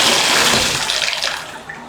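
Water rushing and gurgling down a drain from a bathtub and bathroom sink that had been clogged, a loud close broadband wash that tapers slightly at the end.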